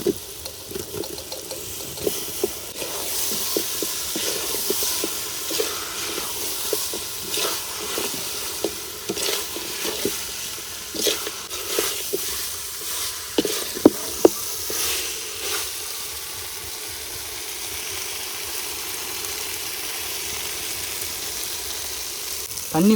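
Chicken legs going into a pan of frying masala gravy, with sizzling, stirring and scraping clatter and a few sharp clanks, busy at first and then settling into a quieter simmering hiss.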